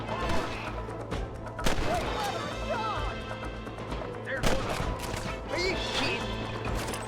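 Gunshots in the Western game Red Dead Redemption, a couple of sharp cracks standing out over a busy, steady bed of game ambience and music.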